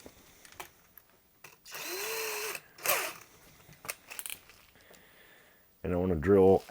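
A drill with a 2 mm bit bores into wood beside a guitar body blank in two short bursts, close and moderately loud, separated by quiet pauses, with a person speaking at the end.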